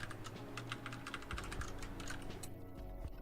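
Quick, irregular typing on a computer keyboard, crisp key clicks tapping close to the microphone over a low steady background hum, with no voices.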